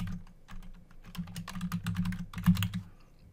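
An email address is typed on a computer keyboard in a quick, uneven run of close, crisp key clicks with no voices.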